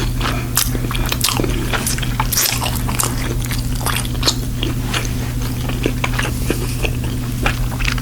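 Close-up eating of sausage and spinach ravioli with baked Filipino pandesal bread: soft wet chewing and biting clicks with occasional crunches, steady throughout over a constant low hum, with no talking.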